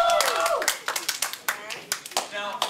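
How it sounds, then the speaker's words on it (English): Students clap for themselves in a classroom after finishing their own games, a short burst of sharp, uneven handclaps from a small group with voices talking over them. "Give yourselves a round of applause."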